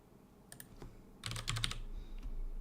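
Close keystrokes on a computer keyboard while a new web page and menu link are being set up, starting as a few separate clicks and then rising into a quick, dense burst of typing with no voice.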